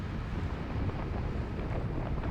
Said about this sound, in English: At this much power, there's probably a ton of wind right now